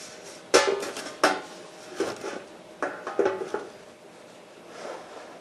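A metal baking sheet is set down over two loaf pans of pound cake with a run of clattering metallic clanks and scrapes, several close bangs followed by lighter knocks, all at close range with no talk.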